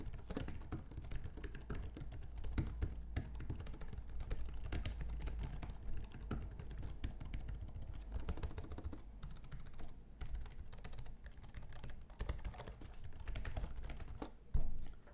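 Continuous typing on a Chuwi Lapbook 12.3 laptop keyboard, a close, quiet patter of key clicks with a few louder thumps, with no voices present.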